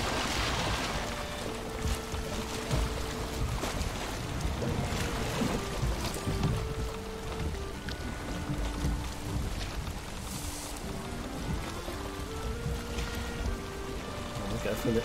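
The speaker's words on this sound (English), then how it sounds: "And we'll go for a little sail." Water rushes and splashes steadily against the hull of a sailing boat in the survival game Valheim, a continuous wash of waves with game music and a voice talking over it.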